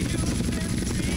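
A helicopter in the video game GTA San Andreas makes a loud, steady rotor drone and buzz that holds continuously throughout, close and unbroken.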